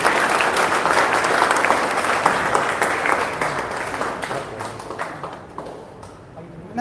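Applause from an audience at a commemorative stamp release ceremony, dense sustained clapping that gradually thins and fades toward the end, with voices mixed in.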